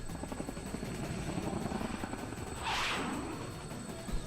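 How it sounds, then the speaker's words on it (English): Helicopter in flight in the fighting game Persona 4 Arena Ultimax, a steady rotor and engine drone running throughout at moderate level, swelling briefly toward the end with a brighter whooshing surge. "the helicopter takes a sharp turn"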